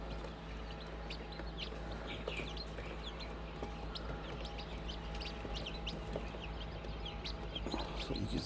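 Quail chicks and week-old chicken chicks kept together in a brooder keep up a constant chatter of small, high peeps and chirps, close by and overlapping without pause.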